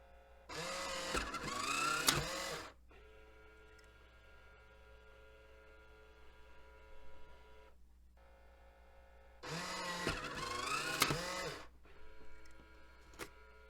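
A vintage Polaroid Spectra instant photo printer works in two loud mechanical bursts of whirring and grinding, separated by a quiet stretch of low motor hum and faint clicks.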